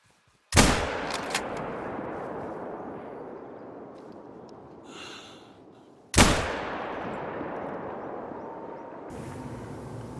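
Two sharp rifle shots at a 250 meter target, each a loud crack followed by a long rolling echo decaying outdoors, spaced about five seconds apart.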